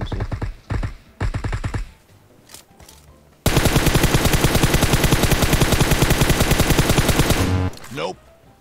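Rapid suppressed gunfire from a PUBG Mobile match: a long, loud, steady burst of closely spaced muffled shots runs for about four seconds, preceded by a few shorter bursts mixed with voices talking.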